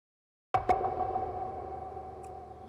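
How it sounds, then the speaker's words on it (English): After a moment of silence, a single impact effect from an Afrobeats track slams in with a sharp hit, a quick second transient, and then a long ringing tail that slowly fades away on its own. "Simple impact effect."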